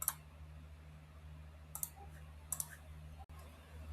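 Several quiet mouse clicks on a computer's create button, scattered singly and in quick pairs over a steady low electrical hum, with no talking.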